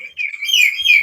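A bird chirps close and loud in a high, wavering whistled call, one sustained warbling phrase with brief breaks, heard during a Quran recitation session with no voices in this moment.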